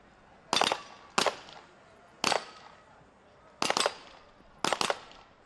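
During a SWAT team challenge, a sniper's shots knock down steel target plates: five separate bursts, each a sharp crack and metallic ring, spaced about a second apart, fairly distant and loud over a quiet background.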